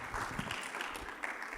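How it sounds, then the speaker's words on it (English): Brief, faint audience applause after a talk on royal Udaipur court paintings, a soft patter of clapping from a modest crowd lasting under two seconds. "Please, a big round of applause again for the brilliant,"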